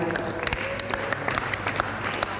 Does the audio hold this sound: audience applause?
yes